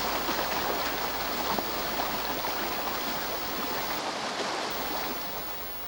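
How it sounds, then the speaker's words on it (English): Water flowing along a man-made aqueduct in the desert toward Jericho, a steady, full rushing stream heard close up that eases off slightly at the end. "This man-made aqueduct carries the water for over 20 miles to Jericho."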